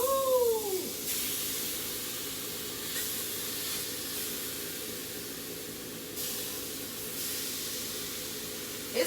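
Frozen meat hisses and sizzles steadily in a hot pan while shepherd's pie is being made, a constant close frying hiss with brief pops near the start.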